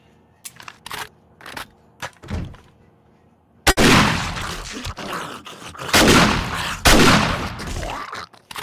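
Gunfire in the survival game 7 Days to Die: several sharp shots and thumps at first, then a loud burst of heavy firing with crackling blasts and brief pauses, close and dominant.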